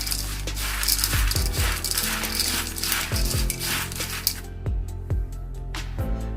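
Crispy fried chana dal tossed and mixed by hand in a bowl, a steady dry rattling crunch with repeated rustling scrapes, loud and close throughout.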